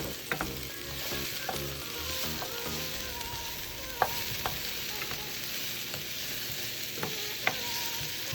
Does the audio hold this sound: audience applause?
no